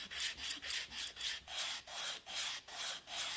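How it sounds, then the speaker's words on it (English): A wooden square's edge being sanded by hand, steady back-and-forth rasping strokes, about eight of them in an even rhythm, close and alone. "I just have to sand a little bit off this edge here."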